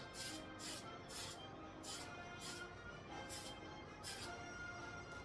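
Bursts of hissing spray from an aerosol can painting a plastic model starship, about seven short blasts in uneven rhythm over a steady background hiss, fairly faint.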